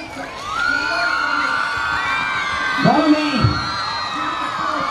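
Students at a school investiture ceremony cheer and whoop loudly as a crowd, with clapping and shouts rising over the steady din and an adult voice speaking.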